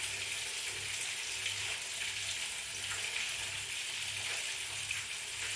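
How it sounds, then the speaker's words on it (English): Jamaican-style chicken frying in a pan gives a continuous hissing sizzle with light crackles and a soft, regular low hum beneath, no voices. "And guys, let me finish frying."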